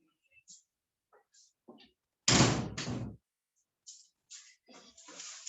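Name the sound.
door being closed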